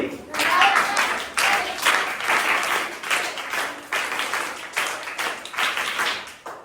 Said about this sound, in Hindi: स्काउट ताली।